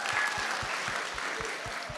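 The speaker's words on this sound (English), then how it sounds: "let's just give them a round of applause again" An audience applauds at a student public speaking contest, a dense, even wash of clapping from many hands that carries on steadily throughout.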